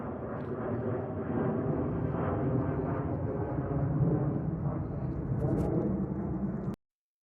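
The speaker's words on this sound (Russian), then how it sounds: "Один за одним улетают самолеты." Airplanes take off one after another over the waterfront neighborhood of Old Howard Beach, making a continuous deep, muffled roar that swells slightly and then cuts off abruptly.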